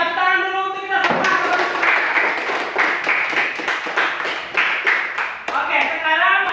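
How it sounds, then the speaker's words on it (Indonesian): A group of students claps together in a classroom, a dense burst of hand claps running for about five seconds between bits of talk from a teacher. "tepuk tangan dulu untuk kita semua"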